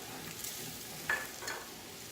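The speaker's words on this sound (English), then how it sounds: "Make sure you get it all stirred in very well." A spoon stirs thickener into creamy baked potato soup in a pan, giving a faint, soft scraping and low sizzle with one brief louder clink.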